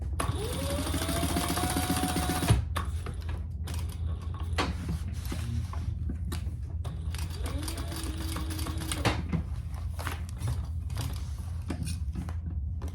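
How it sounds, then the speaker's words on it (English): A sewing machine stitches bag fabric in steady mechanical bursts, whirring close by for the whole stretch with brief pauses in between and no speech. "So I'm going to sew some of it."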